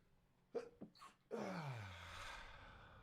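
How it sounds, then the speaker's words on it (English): A single person sneezes, with a couple of short sharp breaths and catches leading into one loud, drawn-out sneeze that trails off, heard close and alone. "Excuse me, I gotta sneeze."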